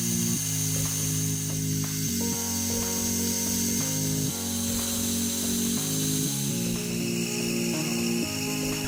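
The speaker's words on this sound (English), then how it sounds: "next up is the pin itself, which was a reasonably straightforward piece of turning" Metal lathe turning a small steel pin, a steady motor hum with a tone stepping up and down in regular cycles and a faint cutting hiss, close and continuous.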